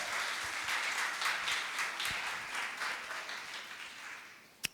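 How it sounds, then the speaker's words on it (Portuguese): A church congregation applauds in a sustained burst of many hands clapping, fairly faint and diffuse, thinning out gradually, with a single sharp knock at the very end. "Você pode aplaudir ao Senhor?"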